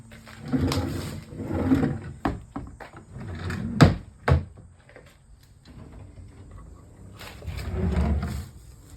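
Old drawers are opened in an abandoned camper, giving groaning, scraping pulls with a few sharp knocks and clunks in between, close and uneven.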